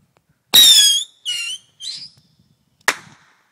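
Fireworks go off outdoors: a few loud, shrill whistling squeals in quick succession, then a sharp crack, with no talking.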